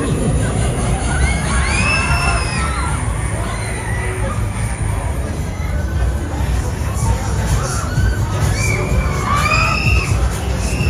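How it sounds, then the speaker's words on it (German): Riders scream and shout on a fairground ride at Ravensburg Rutenfest, a loud, continuous crowd of excited voices with rising and falling cheers throughout. "Immer schön schreien, nochmal, nochmal."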